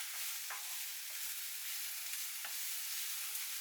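Garlic and mushrooms being stirred in a frying pan, a faint, steady high sizzle with a few soft scrapes of the utensil, quiet and continuous without speech.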